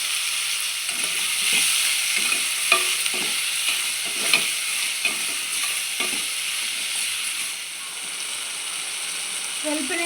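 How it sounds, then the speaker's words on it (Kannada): Cut tomatoes stirred into a pan of cooking palak dal make a steady sizzle under repeated scraping and stirring strokes, close and moderately loud throughout. "ಇದು 2 ಟೊಮೊಟೊ ಕಟ್ ಮಾಡಿಟ್ಕೊಂಡಿದ್ದೆ, ಅದನ್ನು ಸೇರಿಸ್ತಾ ಇದ್ದೀನಿ."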